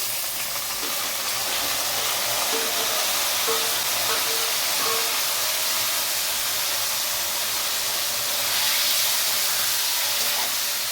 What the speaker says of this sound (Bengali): আমরা চিংড়িগুলো ভেজে নেব